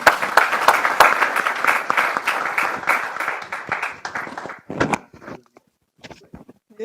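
An audience at a panel discussion on NAFTA and North American integration applauds the panelists, with dense, loud clapping that thins out and fades after about four seconds, leaving a few scattered claps and shuffling.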